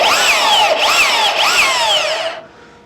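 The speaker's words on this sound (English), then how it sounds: "this saw's a little too big to be doing this with, but It's so much easier than trying to get a handsaw started" An oversized power saw cuts through acrylic sheet with a loud, high-pitched whine that rises and falls in three close sweeps as the blade bites, then cuts off sharply at the end.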